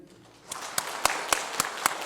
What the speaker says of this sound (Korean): 단체로 인사드릴 때 큰 박수로 축하해 주시면 감사하겠습니다